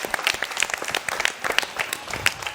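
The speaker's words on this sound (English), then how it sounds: "Here we deserve a thunder clap" Parents and guests at a school annual day function applaud together, a continuous patter of many hands with sharper individual claps standing out, moderately loud and fairly close.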